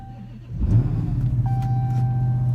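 Dodge Hellcat engine starts rumbling as the car is driven, a deep close throaty growl rising at once and holding steady, loud and alone.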